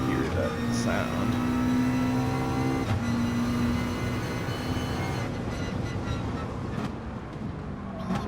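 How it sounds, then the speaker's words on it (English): A steady, tonal droning hum runs through the engine noise of a car in the Assetto Corsa racing game, holding a constant pitch for several seconds under a dense, loud engine roar. "That sound artifact, that droning noise."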